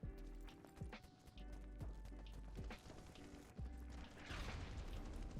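Rapid gunfire in the video game BattleBit: repeated sharp shots and booms in irregular bursts over steady game ambience, with a brief louder crackle near the end.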